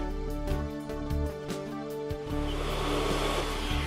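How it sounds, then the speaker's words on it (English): A hot air welding gun heat-welds a Resitrix roofing membrane corner patch, giving a steady, close blower roar that holds at an even loudness throughout with no voices. "Heat weld the Resitrix corner patch."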